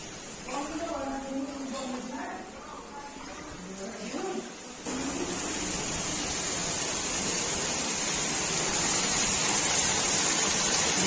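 Rain falling hard around a house during a flooding downpour. A person talks at first, then a loud, steady broadband hiss of rain takes over and keeps building.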